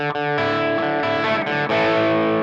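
A guitar tone from a Fractal Audio AX8 modeler with the boost switched off, a sustained distorted chord ringing with dense harmonics, re-struck several times, loud and alone without talk.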